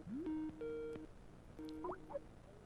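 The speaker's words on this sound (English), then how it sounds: "Oh, we got a phone call." Electronic telephone call tones ring in on a live talk show: a short run of steady pitched beeps, a rising sweep and a few chirps, fairly faint over a low background.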